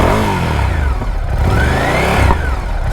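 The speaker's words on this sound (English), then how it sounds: "See, when that's opening up, the exhaust pops." A Ducati Scrambler 1100 engine running close by, a loud, steady mid-pitched motorcycle drone that swells slightly as the revs rise and fall. Any pops from the exhaust valve opening are not clearly distinct.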